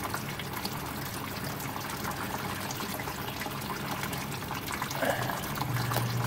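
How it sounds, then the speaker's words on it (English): Twenty-eight-year-old antifreeze trickles out of a 1957 Chevy Nomad, dribbling from the splash pan through holes in the cross member into a drain bucket, a steady quiet pouring sound throughout. "it's draining out from the splash pan into the drain bucket through a bunch of old places in the cross member"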